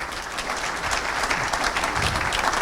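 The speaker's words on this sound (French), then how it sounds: "merci, on peut les applaudir." Close, loud applause from an audience after a presentation on health monitoring at a fire and rescue service event, a dense burst of clapping that fills the whole short moment.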